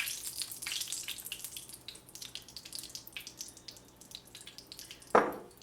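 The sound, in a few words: basil sauce poured on chicken parmesan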